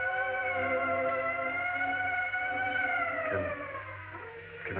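An ambulance siren wails loud and steady, its tone sliding slowly, then fading a little toward the end with faint background noise.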